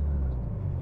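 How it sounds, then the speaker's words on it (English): A car engine idles with a loud, intrusive exhaust on an old, long-unused budget road-trip car; a close, steady low rumble fills the brief moment with no talk. "the exhaust is a bit intrusive, let's say"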